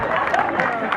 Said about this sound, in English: nice warm round of applause for our volunteers